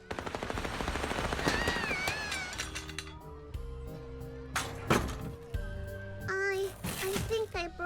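Rapid gunfire with real bullets in the video game Little Misfortune rattles in bursts among bright chiming game tones and cartoonish effects, with a child-like voice and musical jingles layered over it.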